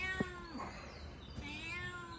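A cat gives soft, drawn-out meows, faint and somewhat distant, over a quiet indoor background with no talking.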